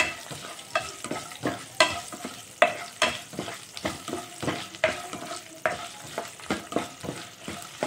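Green chillies fry in a pan for an aloo, meal maker and peas curry, a light sizzle under regular scraping strokes of a spatula stirring in a steady rhythm, close and without talk.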